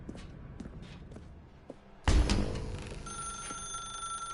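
Footsteps tap through a room in the video game The Stanley Parable, then a telephone bell starts ringing loudly and keeps ringing steadily.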